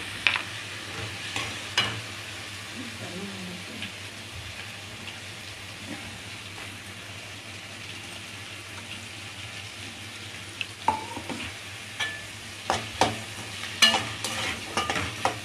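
Onion and curry leaves sauté in hot oil for a chicken gravy: a steady low sizzle runs throughout, broken by scattered sharp scrapes and clinks of stirring that grow busier near the end, with no talking.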